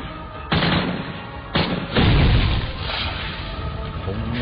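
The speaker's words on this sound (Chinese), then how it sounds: "肥仔，向着那包燃料开枪。" An audio-drama gunshot ignites a pack of solid fuel. Several heavy booming blasts land close and loud around the half-second, one-and-a-half-second and two-second marks, followed by a sustained roaring rumble with no voices.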